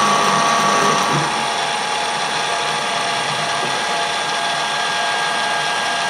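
Small metal lathe screw cutting a thread on an adapter for a wood lathe chuck, a steady loud mechanical whir and gear drone with a bright high whine that runs unbroken throughout, with no talking.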